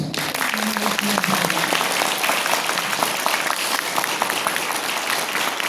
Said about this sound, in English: And for Swamiji you do one clapping.